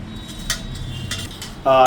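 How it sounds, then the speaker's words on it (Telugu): A ladle stirs pomegranate rasam in a metal pot, giving a few quick clinks and scrapes close by, ending in a louder ringing metallic knock, with no talk. "కలుపుతున్నాం"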